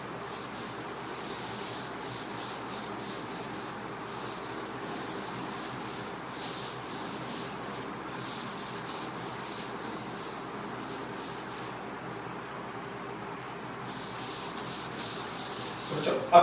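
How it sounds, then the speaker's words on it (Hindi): Writing is erased from a classroom board during a physics lesson, a steady close rubbing and wiping that runs continuously for the whole stretch without pauses or talk. "मैं मिटा रहा हूँ"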